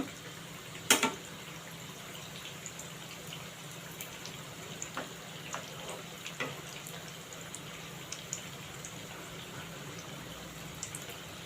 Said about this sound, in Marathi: आता दुसऱ्या साईडने पण चांगलं तळून घ्यायचं आहे